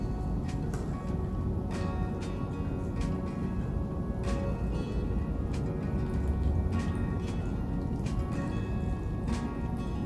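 Water is poured into a vessel holding a kokedama moss ball, a steady broadband trickling and splashing with faint intermittent ticking drips running continuously throughout.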